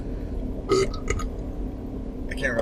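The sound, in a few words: burp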